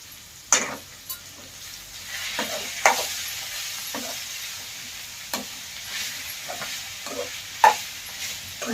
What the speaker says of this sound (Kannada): ಬೆಳ್ಳುಳ್ಳಿ ಪೇಸ್ಟ್ ಒಳಗ ನಾನು ಇವಾಗ ಫ್ರೈ ಮಾಡ್ಕೊಳ್ತೀನಿ ನೋಡ್ರಿ ಅದನ್ನ